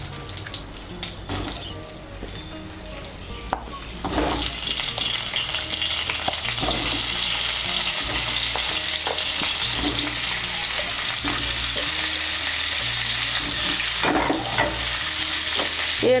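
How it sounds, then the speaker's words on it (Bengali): Pumpkin pieces, 800 grams washed and cut, fry in hot oil in a wok, a steady loud sizzle running throughout with repeated scrapes and clatters of stirring, and no talk. "কড়াইতে যে তেল আছে এই তেলের মধ্যে মিষ্টি কুমড়োটাও ভেজে নেব"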